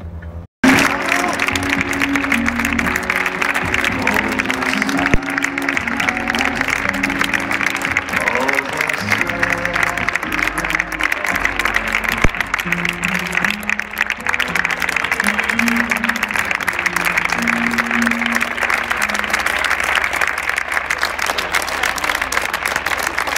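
Sustained audience applause fills a screening hall at the Venice Film Festival, dense and loud throughout with crowd murmur and voices underneath.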